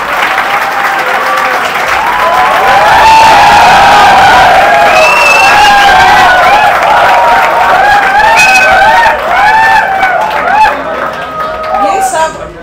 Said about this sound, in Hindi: तो एक बार फिर से तालियों के साथ